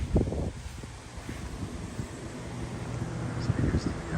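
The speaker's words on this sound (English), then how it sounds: "You can hear the wind pushing on it, pushing on these thin little banana blades." Outdoor wind gusts roar across a small vintage personal fan with thin banana-shaped blades, a broad rushing wash rising and falling in loudness, with low thumps from buffeting.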